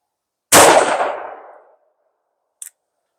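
A single loud, close gunshot from a Taurus Tracker .44 Magnum revolver booms and rings out over about a second, followed by a brief faint metallic click.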